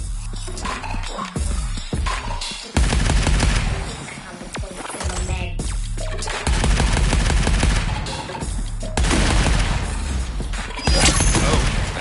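Assault rifle fire in the arcade shooter Arcadegeddon, loud automatic bursts starting and stopping in several long runs, mixed with mechanical game effects and booms, with a voice speaking at times.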